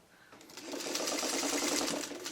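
A sewing machine stitches quilt block pieces for a Flock of Geese block, ramping up within half a second to a fast, even mechanical whirr that runs steadily to the end.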